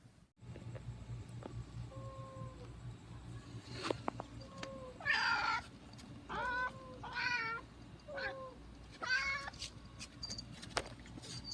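Cat meowing several times, clear drawn-out meows in a short run with brief pauses between them, close and fairly quiet over a low background hum, with no talking.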